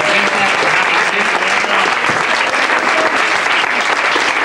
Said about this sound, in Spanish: Que denle un fuerte aplauso a Mariano Mariano.